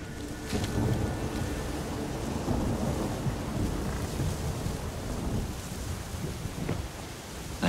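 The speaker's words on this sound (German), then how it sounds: "Ein Sturm, verdammt." Steady rain and rumbling thunder from a thunderstorm in the video game The Witcher 3, a dense continuous wash of rainfall with low rolls throughout, with no talking.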